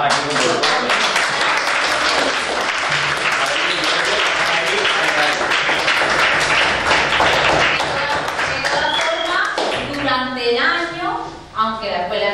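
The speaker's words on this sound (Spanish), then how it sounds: "un aplauso para ellos" A crowd applauds the neighbourhood summer school workers at a summer school closing ceremony: loud, dense clapping throughout that fades near the end as a voice begins speaking.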